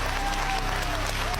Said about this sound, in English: look at all the guys over there clapping